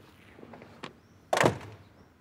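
An indoor door swings shut with a single solid thud that rings briefly, preceded by a lighter knock or click, close and fairly loud.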